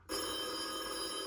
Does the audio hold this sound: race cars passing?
no